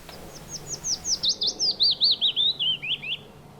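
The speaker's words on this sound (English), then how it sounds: "gentle descending warble of the willow warbler" A willow warbler sings a single clear, sweet phrase of quick repeated notes that slide gently downward and fade at the end, close and alone over quiet background.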